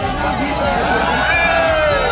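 A dense crowd murmurs inside a packed Kolkata metro train running under the river between Howrah and Esplanade, with steady rumble and a rising motor whine beneath the chatter.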